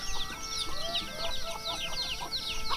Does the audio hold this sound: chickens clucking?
yes